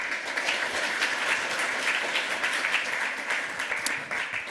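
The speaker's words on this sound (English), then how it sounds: "One last round of applause." Audience applause at a lightning talk session at the 28c3 hacker conference, a dense, steady wash of many hands clapping that holds evenly for the whole stretch, fairly distant in a large hall with no voices over it.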